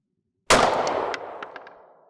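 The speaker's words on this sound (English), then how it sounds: "This time I'm going to try and shoot at the crossed rifles." A single loud pistol shot from a Canik handgun fitted with a Freedomsmith trigger, fired at a crossed-rifles target, with a sharp crack followed by a long ringing decay and faint metallic pings from the hit.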